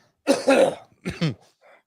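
Two rough coughs close by, the second pair shorter and throatier, with brief quiet gaps between them.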